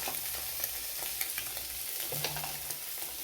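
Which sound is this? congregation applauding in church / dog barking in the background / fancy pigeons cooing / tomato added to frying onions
tomato added to frying onions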